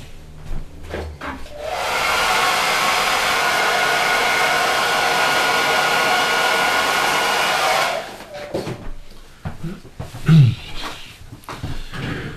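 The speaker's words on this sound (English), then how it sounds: "you can give it a bit of a blow with a hairdryer, which is what I'm going to do right now" A hair dryer blows steadily on fresh paint of a Hasegawa 1/32 P-40 scale model, a loud, even whoosh lasting about six seconds before it switches off, followed by light handling clatter.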